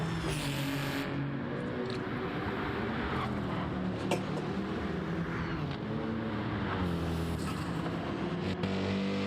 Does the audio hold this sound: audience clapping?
no